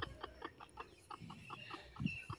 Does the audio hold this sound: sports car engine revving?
no